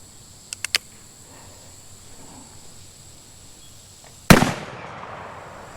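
Gunshots from a shooting round: three quick sharp cracks near the start, a long quiet pause, then one loud close report with a decaying tail.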